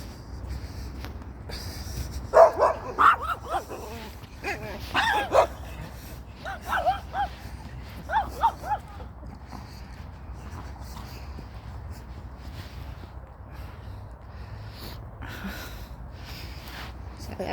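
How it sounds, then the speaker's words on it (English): On a morning walk, a dog barks at another dog named Max, a few sharp barks and yips scattered over several seconds against steady outdoor background noise. "that dog. Started barking at Max."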